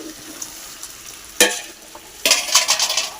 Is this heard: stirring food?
yes